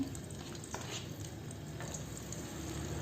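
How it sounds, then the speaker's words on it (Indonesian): Chopped shallots and garlic frying in heated oil give a continuous close sizzle and crackle, steady throughout with no voices. "Kita goreng sampai benar-benar matang kecoklatan, tapi tidak gosong ya."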